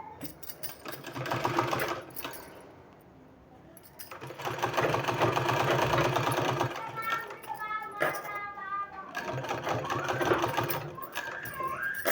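A sewing machine stitches a wrap strip into piping for a neckline design, running in several bursts with short pauses between, close and fairly loud.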